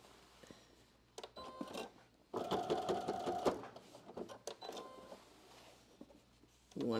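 A sewing machine stitches a fabric muslin test garment in a short burst of rapid, even needle strokes, starting and stopping between quieter handling noises, fairly close and alone without talk.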